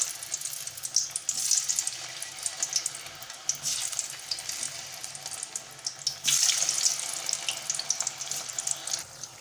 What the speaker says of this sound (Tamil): இப்போ ஆயில் நல்லா சூடாக இருக்குது. கொஞ்சம் கொஞ்சமாக போட்டு நம்ம சேனக்கிழங்கு பொரிச்சு எடுத்துடலாம்.